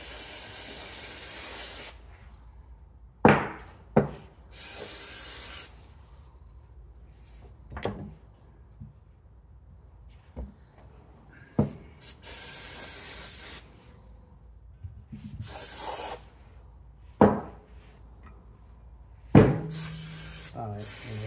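Cleaner is sprayed onto MBK Booster scooter engine parts in short hissing bursts, several spaced spurts across a quiet room with a few clicks and handling noises between them.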